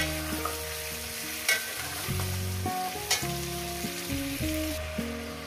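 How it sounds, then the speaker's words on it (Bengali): Chicken meat sizzles in a frying pan with steady crackling, while scraping stirs and clanks of a utensil against the pan come through repeatedly, moderately loud and close. "মিনিমাম 7 থেকে 8 মিনিট আমি মাংসটাকে ভেজে নেব।"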